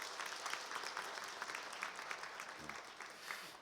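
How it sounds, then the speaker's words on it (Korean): Congregation at a Korean church Sunday service applauding in welcome, a steady wash of many hands clapping that stays fairly quiet and distant throughout. "우리 인사할 때 큰 박수로 한번 환영해 주시기 바랍니다."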